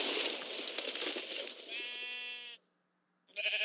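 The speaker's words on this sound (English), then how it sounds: "Where's that sheep at? I hear sheep everywhere." Sheep in Minecraft's Crazy Craft 4 modpack bleat in quick succession, a wavering nasal bleat sliding into a long buzzy call, a short silence, then another bleat starting, loud and close over faint game noise.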